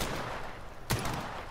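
A single sharp gunshot in Call of Duty Modern Warfare Remastered, one brief loud crack standing out midway against a noisy game background.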